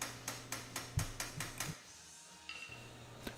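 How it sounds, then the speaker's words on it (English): A hammer taps a pin back into a plate while an ATV is being built, giving about eight sharp metallic taps in an even rhythm, close by, then a brief pause and one more faint knock. "if you overshoot it, you can just tap it back with the hammer"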